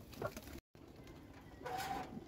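Pigeons in a loft give soft coos and rustling at close range, broken by a brief gap, with a louder burst of bird calls near the end.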